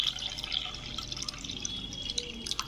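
Water poured from a measuring cup into a bowl of flour (maida) for chicken wrap dough, a steady soft trickle and splash running continuously at close range, with no talk.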